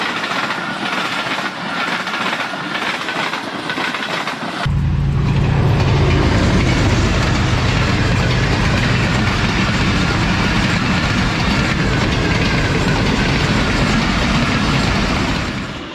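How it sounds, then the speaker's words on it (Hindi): A GU20 rail car passes through Chak Pirana railway station at about 82 km/h. A quiet platform gives way to a sudden, loud, sustained rumble and clatter of wheels that stays close and strong to the end. "GU20 जो है 82 किलोमीटर/hr लेके गुजरा है रेल कार को"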